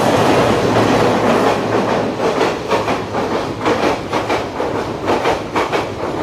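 A train runs past a railway signal cabin, its wheels drumming a rhythmic clickety-clack over rail joints in a loud, close, steady rumble with no talking.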